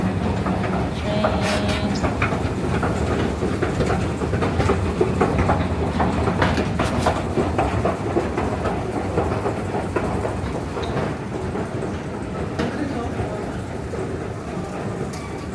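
A New York subway train rumbles and clatters along the rails in a steady, loud, continuous roar, with occasional rattles and clicks over the full stretch.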